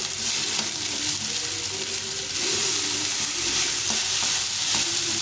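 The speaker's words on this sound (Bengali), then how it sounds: "এটাকে ভালো করে ভাজতে হবে অনেকক্ষণ ধরে ভেজে ভেজে ভেজে ভেজে ঝরঝরা করতে হবে" Cooked rice with turmeric is stir-fried in a pan for a long time, giving a loud, steady sizzle with repeated scraping and stirring, and no talking.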